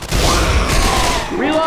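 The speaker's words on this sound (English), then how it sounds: "Don't mind shooting at me." A brief burst of sustained gunfire in the video game Left 4 Dead 2, with continuous loud shooting and a voice audible over it.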